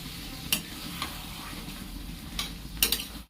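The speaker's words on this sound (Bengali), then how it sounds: "কচু ও আলুগুলো একে একে ছেড়ে দিলাম। ভালো করে মিশিয়ে নেব।" Taro and potatoes fry in a pan for a spicy prawn dish, a steady low sizzle broken by several sharp scraping stirs from a utensil, close and clear with no talking.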